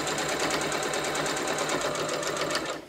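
Fabric binding fed slowly through a sewing machine, giving a close, steady rhythmic stitching whir that runs for under three seconds and then tapers off at the end.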